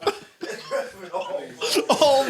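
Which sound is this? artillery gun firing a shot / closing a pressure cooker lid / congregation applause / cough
cough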